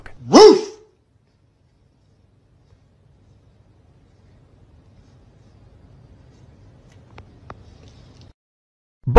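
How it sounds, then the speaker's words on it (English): A single close, loud dog bark right at the start, followed by near silence with faint low background noise. "Bark at your dog."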